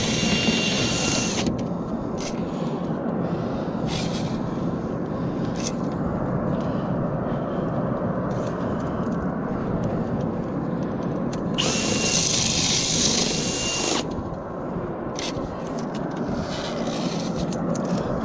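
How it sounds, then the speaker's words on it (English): A loud dryer vent cleaning blower runs continuously with a harsh whirring roar, surging louder for a few seconds midway, with scraping and knocking against the dryer vent ductwork. "Now you can hear the blower, it's so much louder now."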